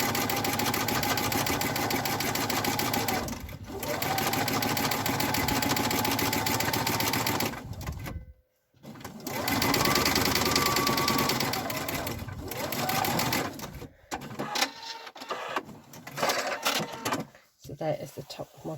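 A sewing machine stitching across the top of a fabric pocket for a handmade fabric advent calendar, a rapid mechanical whir in long runs that pause and restart, with a person talking over parts of it.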